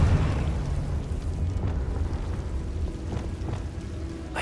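A Confringo blasting spell explodes in Hogwarts Legacy, a sustained low rumbling boom that stays loud and dense across the whole stretch, with a few sharper bursts near the middle and toward the end.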